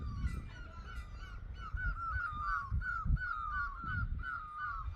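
Birds in a Himalayan hill forest near a home call in a steady, overlapping chorus of honking notes that carries clearly through the forest without any talk.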